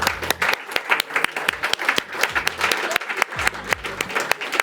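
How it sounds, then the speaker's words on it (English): Audience applause closing the final presentations and awards at Climathon Bratislava, with quick bursts of clapping from a modest crowd mixed with low, tonal sounds and a bit of voice, loud and close. "Round of applause, and let's go."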